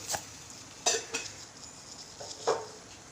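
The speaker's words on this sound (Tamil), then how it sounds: "கடுகு பொரிஞ்சிச்சு" Sparse, sharp pops and crackles of mustard seeds spluttering in hot oil for mutton gravy, fairly faint, with a soft hiss underneath and no voices.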